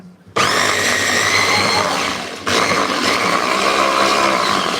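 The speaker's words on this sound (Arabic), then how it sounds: "احطها ميه عادي في ميه عادي عشان تجري في الخلاط" An electric blender blending garlic with water whirs loudly, starting abruptly and running steadily with a brief dip in speed midway, a high grinding motor whine up close.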